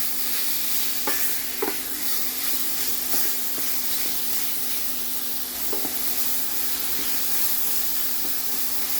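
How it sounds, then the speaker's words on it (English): Seasoned beef sizzles in a hot pan with a steady frying hiss and a low hum, broken by occasional scraping stirs. "Fry until it changes the color."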